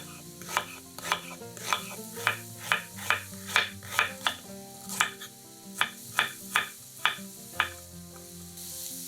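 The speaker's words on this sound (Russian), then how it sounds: "Жарим шампиньоны на большом огне." Button mushrooms fry in vegetable oil over high heat with a continuous sizzle. A spatula scrapes through them in about a dozen regular stirring strokes, close and clear.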